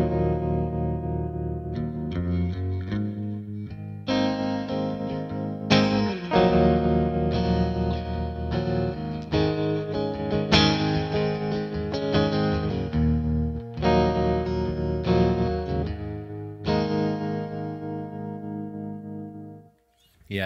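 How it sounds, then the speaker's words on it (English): Electric guitar through a Victory V4 amp with tremolo and reverb, playing sustained chords and notes that pulse in a steady wavering rhythm, loud and close with a reverberant tail, no voices. "So that's what the tremolo does, and of course the reverb."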